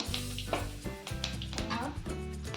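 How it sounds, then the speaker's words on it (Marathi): Cumin seeds and a pinch of asafoetida crackle in about three spoonfuls of hot oil in a kadhai, tempering for dal, a steady close sizzle with pan clatter and a voice running over it. "मी तेल टाकलं आहे तीन चमचे कढईमध्ये मोरी जिरे थोडंसं हिंग"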